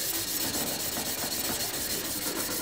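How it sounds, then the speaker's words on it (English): Steady, continuous hand sanding of a forged 8.5-inch kitchen chopper blade, an even rasping rub with soft rhythmic strokes, close up and with no talking. "Got to get hand sanding on this right away."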